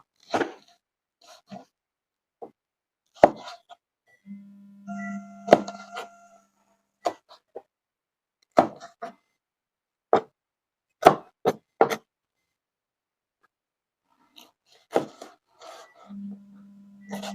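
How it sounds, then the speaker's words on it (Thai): A knife slices chili peppers thinly on a cutting board, giving sparse, sharp individual taps spread irregularly across the clip, with faint background tones and near-silent gaps between cuts. "เตรียม หั่นพริกแฉลบ ไว้สัก สองสี เลยครับ หั่นบางๆ"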